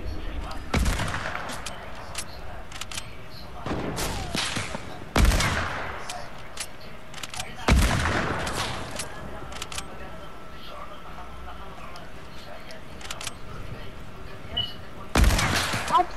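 Gunfire in a video game aimed at a staircase: four loud, sharp shots spaced several seconds apart, each with a short ringing tail, over faint in-game background noise.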